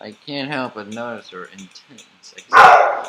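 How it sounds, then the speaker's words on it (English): A pet dog barks in the background, a short loud burst of barking at the very end after a stretch of speech, setting off when a doorbell rings at home. "That's a dog in the background."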